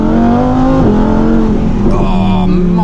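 A Lamborghini Huracan Performante sports car engine revs loud and close, the pitch climbing, dipping briefly and climbing again in a sustained aggressive roar.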